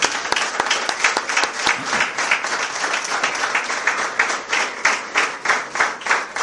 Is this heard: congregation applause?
yes